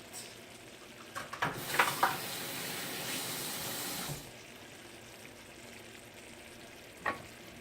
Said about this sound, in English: now we're going to fry our egg in about medium heat